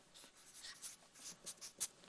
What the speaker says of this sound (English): So I'm going to write soft.